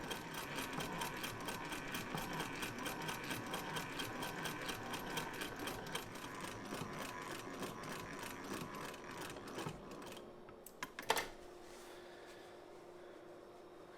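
Wheeler & Wilson No 9 treadle-era sewing machine stitching a small fabric bag, rapid regular mechanical clatter of the needle and gears running steadily, then slowing and stopping with a couple of final clicks near the end.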